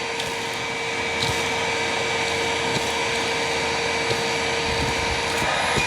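A self-propelled purple Hoover WindTunnel upright vacuum runs with a steady, loud motor drone and faint ticks and rattles of debris being picked up, with no talking.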